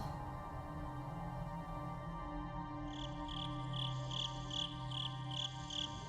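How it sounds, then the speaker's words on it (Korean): Crickets chirp in steady pulsing trills that join in partway through, layered over a low background hum. "지금 들은 건 바로 귀뚜라미 우는 소리입니다."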